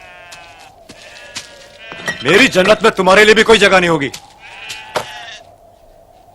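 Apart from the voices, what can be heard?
sheep bleating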